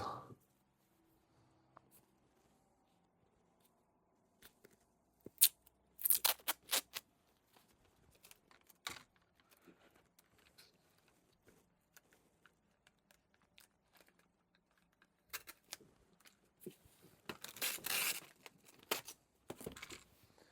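Packing tape is pulled and torn in sharp, crackling bursts to seal a mail package of trading card preorders, close and intermittent amid quiet handling noises, with no talking.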